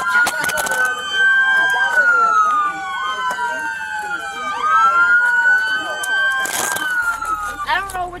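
A police car siren wails in a long sweeping tone that rises and falls for several seconds, loud and close, with bursts of shouting voices breaking in near the start and again toward the end.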